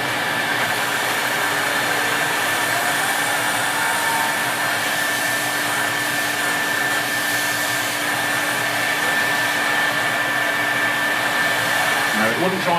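A vintage Electrolux 500 or 560 vacuum cleaner runs steadily, a loud continuous motor whine with a constant tonal hum and airy rush throughout, no talking.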